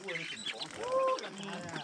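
Ducks quack a few times at a village home among other farmyard poultry, fairly faint and mixed with nearby voices talking.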